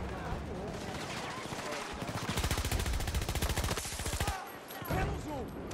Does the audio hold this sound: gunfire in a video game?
yes